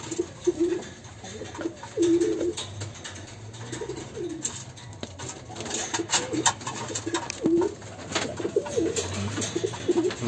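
Pigeons, including a Mordda-blood male and a Teddy and Rampuri cross female, coo repeatedly in soft, low, rolling calls that come in several short bursts, with rustling and light knocks nearby.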